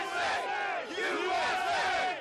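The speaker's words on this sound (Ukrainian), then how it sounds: "площа перед місцевим конгресом і прилеглі вулиці просто забиті людьми" A large crowd of protesters in Richmond, Virginia shouts and chants together in loud, swelling waves of many voices outdoors.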